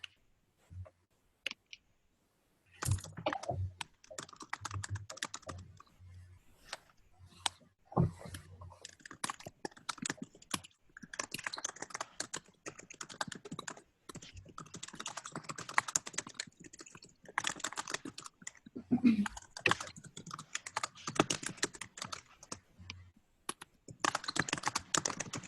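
Typing on a computer keyboard, with fast, irregular clatters of keystrokes arriving in bursts and short pauses, close and fairly quiet, running for about twenty seconds after a brief silence.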